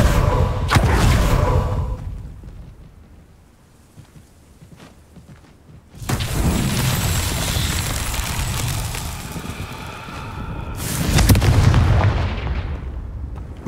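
Confringo fire spell blasts in the Hogwarts Legacy video game land as heavy booming impacts with rumbling tails, a loud opening burst, a second sustained blast mid-clip and a final heavy thump, each fading between bursts.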